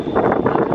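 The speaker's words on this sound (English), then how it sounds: "Oh, it's windy." Steady wind buffeting the microphone, a continuous broadband rush with gusty swells throughout.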